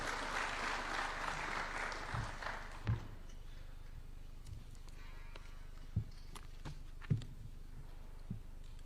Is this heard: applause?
yes